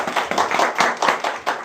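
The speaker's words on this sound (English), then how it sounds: "Give an applause for Seong-sik too" Scattered hand clapping from a small group of classmates in a Korean language class, a handful of loose claps pulsing for under two seconds, close and moderately loud with no talk over it.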